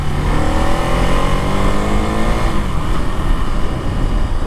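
A 2025 KTM Duke 390 motorcycle ridden on the road, its engine loud and close, droning and pulling through revs with a gear change partway through.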